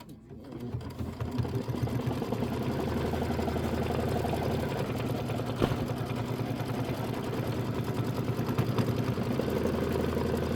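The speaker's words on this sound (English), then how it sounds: "And then we're going to do some satin stitching." A sewing machine satin-stitching a watermelon-themed mini quilt block runs in a steady, fast mechanical whir, loud and continuous throughout, with light background noise underneath.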